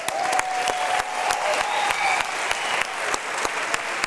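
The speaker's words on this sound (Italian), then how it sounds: "un applauso!" Audience applause at a charity auction fills the room, a dense and steady clapping from a crowd that holds for several seconds, fairly loud and close, with a brief tone sounding over it.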